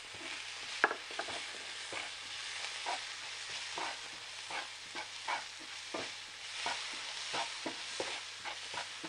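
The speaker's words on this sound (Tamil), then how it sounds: "ஜீரகம், சோம்பு, அது கூட பெருங்காயத்தூள், மிளகாத்தூள், அது கூட மஞ்சள் தூள், உப்பு எல்லாத்தையும் போட்டு நல்லா வதக்கணும்" Onion sautéing in a pan with cumin, fennel, asafoetida, chilli powder, turmeric and salt for potato bonda, a steady soft sizzle broken by repeated scraping stirs, close and moderately quiet, no voices.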